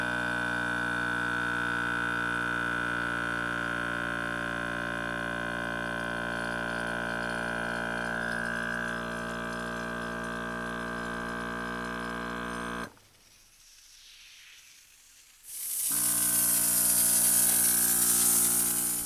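Battery powered foam sprayer running and spraying shampoo foam, a steady loud motorized hiss with a tonal hum, briefly cutting out near the end before resuming with a brighter spray.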